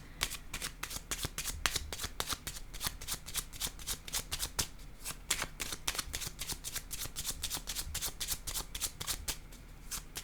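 A deck of cards is shuffled continuously for a card reading, a steady rapid riffle of crisp flicks lasting about ten seconds, close and quiet.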